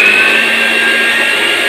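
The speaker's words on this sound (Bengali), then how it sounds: "এবার আপনাদেরকে মোটরটা চলায় দেখাই, 250 ওয়াট একটা ব্লেন্ডারের পাওয়ার কীরকম" A 250 watt Nova blender motor runs at steady speed, a loud continuous whirring whine with a high tonal hum held evenly throughout, close and alone.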